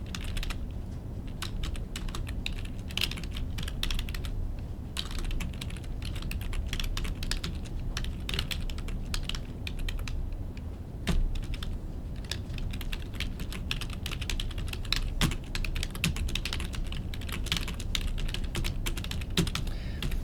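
Steady typing on a computer keyboard, with quick irregular key clicks and occasional louder taps running continuously at a quiet, close level.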